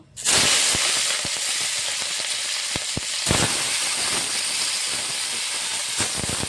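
Prawns dropped into hot mustard oil for a prawn and sweet pumpkin dish burst into a loud, steady sizzle that starts abruptly and hisses on throughout, with occasional sharp pops and crackles.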